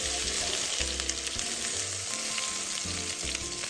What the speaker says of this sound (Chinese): 油热后倒入马铃薯煸炒，中火煸炒1到2分钟即可。